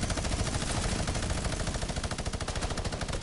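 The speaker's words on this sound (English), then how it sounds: "Getting shot at from behind!" Rapid automatic gunfire in a video game, a continuous stream of evenly spaced shots at a steady fast rhythm, loud and close, lasting the whole stretch without any talking.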